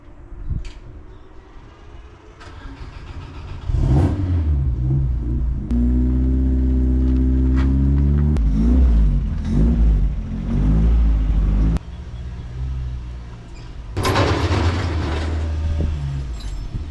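A race car being unloaded at a practice event revs its engine loudly in several sustained bursts, the deep roar rising and falling, with no talk over it.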